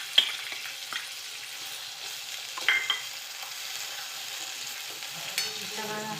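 Soft continuous sizzle of onion, capsicum and tomato sautéing in butter for pav bhaji, with a few spoon stirs and clinks against the pan, close and fairly quiet.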